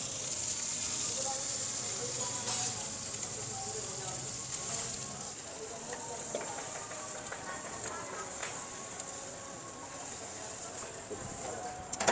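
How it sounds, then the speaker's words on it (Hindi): Onions frying in a hot tadka for nihari at a Delhi street nihari house, a steady loud sizzle and crackle that runs throughout, with a busy outdoor street background. "अब ये लग रहा है जी तड़का"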